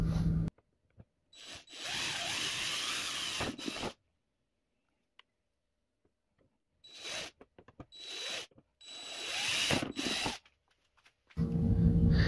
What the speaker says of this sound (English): Now I just need to drill the holes that I will use to attach the toggle switch